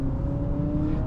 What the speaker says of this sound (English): you hear a fake engine noise definitely coming from the speaker